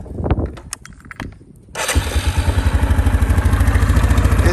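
A Yamaha Kodiak 400 ATV engine cranks over with a few clattering turns, then catches and settles into a steady, loud, close idle with a regular rhythmic chug.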